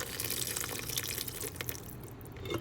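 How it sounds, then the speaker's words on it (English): A steady stream of boiling water pours and splashes into a bowl of chocolate cake batter, close and continuous for a few seconds with no talking. "we're going to add 1 cup of hot boiling water"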